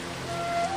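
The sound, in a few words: rain in a cartoon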